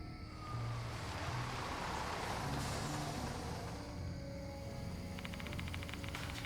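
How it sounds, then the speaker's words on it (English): A bus approaches in the video game Death Mark 2, a low engine rumble with hissing and a short rattling burst near the end, heard faintly and steadily without voices. "Oh nice, there's a bus coming across the street."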